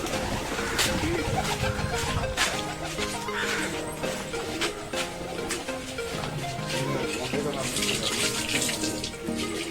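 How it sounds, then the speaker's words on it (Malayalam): Pigeons let out of their coop at a house in Kollam, heard as a busy, continuous wash of fluttering and cooing at moderate distance with no pause. "ഇപ്പൊ പ്രാവുകൾ തുറന്നിരുന്നേ."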